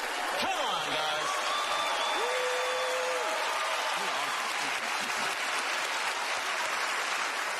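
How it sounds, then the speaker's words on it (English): Studio audience applause on a televised magic show, continuous crowd clapping throughout, with brief whistles or voices and a sustained tone rising over it early on. "If everyone could give this guy a big round of applause"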